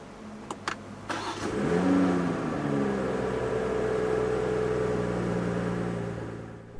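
A 2021 BMW M340i xDrive starts up: a few sharp clicks, then the engine cranks and catches with a loud rev that settles into a steady, smooth idle, heard close with no talking.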